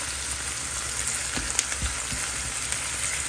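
Onions sizzling and crackling in a hot pan, a steady frying hiss with occasional sharper pops and stirring sounds, close up.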